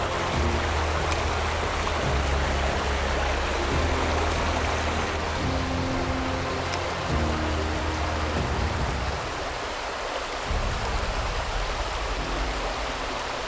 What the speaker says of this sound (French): On se croirait en torrent de montagne. Il y a des petites cascades là